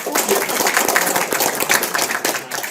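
Applause from an audience at a talk on MLM and money-game schemes, dense clapping from many hands close by, steady and fairly loud for a few seconds with faint voices beneath.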